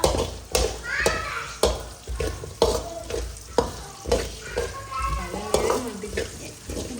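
Food sautéing in a pan in a home kitchen gives a steady close sizzle broken by regular scraping strokes of a spoon, while a voice talks over it and children can be heard nearby.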